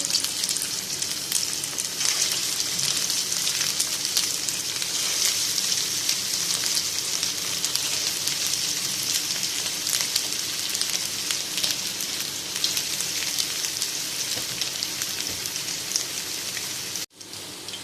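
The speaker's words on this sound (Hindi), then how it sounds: "अब हम इसमें अपने कबाब ऐड करके उनको फ्राई कर लेंगे।" Beef kebabs fry in hot oil in a pan over a low flame, a dense, steady hissing sizzle close up that continues without pause, with a short break near the end.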